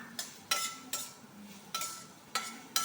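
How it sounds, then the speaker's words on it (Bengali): Chopped bottle gourd stirred in a pan over five-spice seeds: a few sharp scraping strokes of a spoon against the pan, spaced unevenly, near and moderately loud, with a faint sizzle beneath and no talk. "একটু নাড়াচাড়া করে নিই।"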